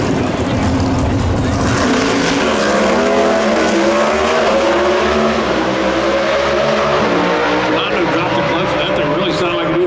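An NHRA Pro Stock drag race car roars down the track at Route 66 Raceway in Chicago, its engine a loud, sustained rising howl that drops in pitch as it passes, with an announcer talking over it throughout.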